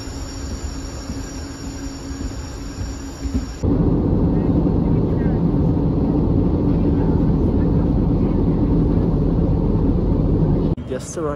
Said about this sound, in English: There you see a plane just leaving.